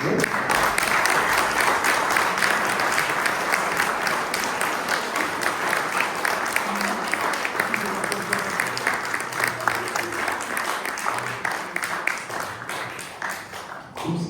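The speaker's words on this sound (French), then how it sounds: "on va vous applaudir à nouveau très chaleureusement" Warm, sustained applause from a lecture audience in the Salle Pétrarque in Montpellier, a dense, even roar of many hands that carries on for well over ten seconds before tapering slightly at the end.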